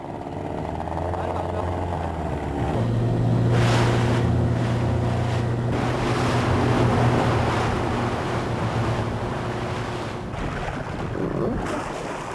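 A military rubber boat's outboard engine, capable of about 90 km/h, races toward shore at sea, a loud sustained drone mixed with wind buffeting and splashing waves, with voices faintly present.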